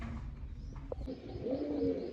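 A pigeon at a rooftop loft gives a low soft coo near the end, faint and close, over a steady background rumble with a couple of small knocks earlier.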